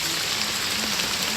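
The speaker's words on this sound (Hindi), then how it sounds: "बहुत तेज़ बारिश हो रही है आज यहाँ पे।" Heavy monsoon rain falls over a hilly area as a steady, fairly soft hiss of drops with no talking.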